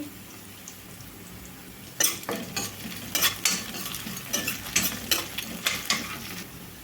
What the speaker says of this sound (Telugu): ఒక నిమిషం పాటు ఇట్లా వేయించుకుంటే సరిపోతుందండి బీన్స్తో పాటు వేగుతాయండి